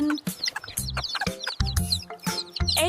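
A hen clucks in short, rhythmic bursts mixed with bright, chirpy calls, fairly close and steady throughout, with no talking.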